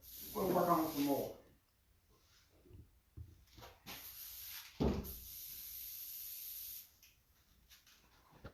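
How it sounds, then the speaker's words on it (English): An airbrush used for painting crankbaits sprays while being cleaned out, giving sharp hissing bursts of air and paint that start and stop, including one long sustained hiss, close by amid faint handling noises. "Let me clean my airbrush out right quick so it doesn't dry in there"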